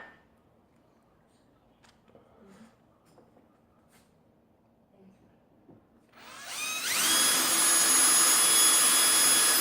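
Quiet room with faint knocks, then a power drill spins up loudly, drilling a homemade Lee die lock ring, and keeps whining at a steady high pitch.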